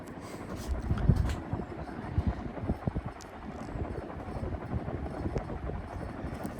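A vintage 48-inch Winco Wattmaster industrial ceiling fan runs with a steady, rumbling whoosh of moving air and a low throbbing drone, fairly close and continuous throughout.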